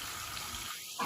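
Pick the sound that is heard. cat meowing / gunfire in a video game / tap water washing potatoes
tap water washing potatoes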